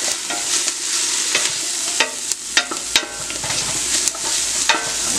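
Turkey noodle soup ingredients sizzling and frying in a pot, with clattering stirring strokes and scrapes over a continuous hiss, close and fairly loud.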